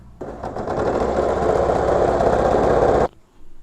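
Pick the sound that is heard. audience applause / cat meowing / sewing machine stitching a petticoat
sewing machine stitching a petticoat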